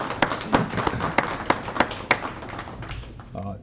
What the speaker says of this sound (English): if we could just give her a big thank you and a round of applause